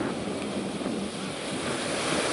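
Ocean surf rolling onto Pantai Bojong Salawe beach, where fishermen pull nets, forms a steady broadband roar with wind buffeting the microphone throughout.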